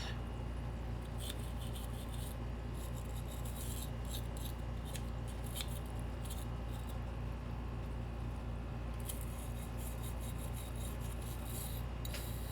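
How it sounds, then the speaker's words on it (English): A brass chassis being scrubbed by hand gives a steady, faint rasping and rubbing that runs continuously, with small bursts of scratchier strokes throughout. "So just give it a scrub until you're happy with how it looks."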